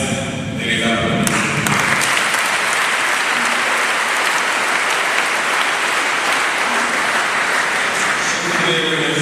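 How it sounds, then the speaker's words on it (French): Sustained, dense applause from a large congregation at an outdoor Catholic pilgrims' Mass in Senegal, loud and steady for about nine seconds after a brief voice at the start. "Merci de les applaudir."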